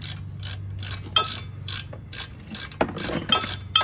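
A ratchet wrench cranks a bolt on the front brakes of a 1997 Chevy Tahoe, its rapid clicking coming in short bursts with brief pauses between strokes, close and crisp.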